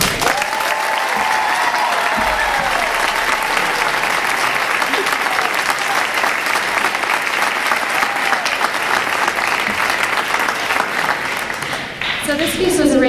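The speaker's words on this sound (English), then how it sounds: "I do want to give one fabulous and huge round of applause for our fabulous accompanist" Sustained, loud audience applause at a school choir spring concert honoring the accompanist, steady dense clapping throughout with a few voices calling out over it, tapering near the end.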